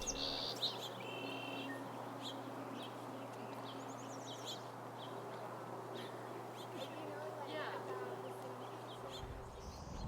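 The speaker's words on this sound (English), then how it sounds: "We can hear all of these birds." Birds call across a wetland preserve: scattered chirps and a few duck-like quacks, faint and distant, over a steady low background hum.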